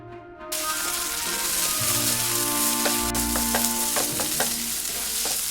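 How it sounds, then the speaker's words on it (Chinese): Chopped bean paste, chili powder and minced garlic stir-frying in hot oil for a Mapo-style dish, a steady loud sizzle with scraping stirs and faint clinks, alone with no voices. "在热油锅中加入剁碎的豆酱，炒出红油， 然后加入10克的辣椒粉和15克的蒜末，炒出香味。"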